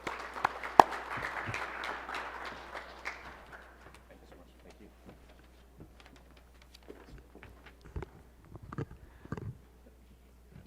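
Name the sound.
applause for a conference speaker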